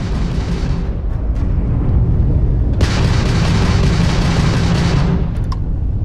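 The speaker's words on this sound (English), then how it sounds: "that's a Crimson Fleet ship bringing its weapons to bear" Spaceship weapons fire and explosions during ship combat with a Crimson Fleet vessel in the video game Starfield: loud, continuous booming blasts and rumbling bursts, with a sharp surge midway and a few crisp pops near the end.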